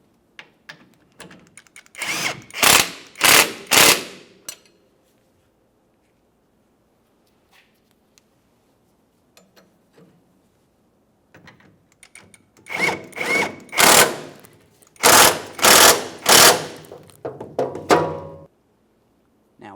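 Power tool tightening the rear air shock bolts on a 1999–2006 Chevrolet Silverado 1500, heard as loud, close ratcheting bursts in two clusters separated by a long quiet stretch with faint clinks.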